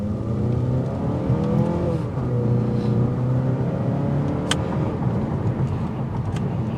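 The engine of a 2023 Mazda 3 hatchback accelerates with a rising, steady drone heard from inside the car, the pitch climbing as revs build, with a brief click partway through.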